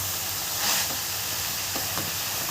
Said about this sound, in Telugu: బాగా ఫ్రై అవ్వాలి ఫ్రెండ్స్.